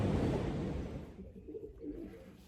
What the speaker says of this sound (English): Racing pigeons.